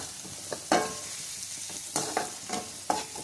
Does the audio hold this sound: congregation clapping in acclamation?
no